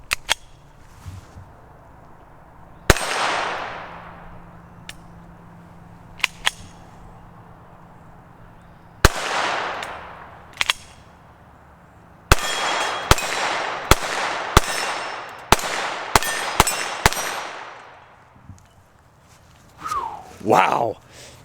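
Roughly ten sharp pistol shots from an FN 502 fitted with a red dot, a few spaced early shots followed by a quicker string, loud and close, with someone talking between them.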